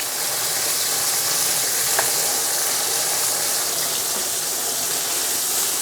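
A pork chop sears in a hot pan, giving a steady, dense sizzling hiss that holds at an even level with no talk over it.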